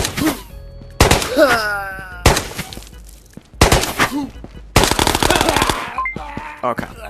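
A gun taken from an NPC in Ghosts of Tabor fires in loud, sharp bursts, several separate volleys with short gaps and ringing echoes trailing off after each.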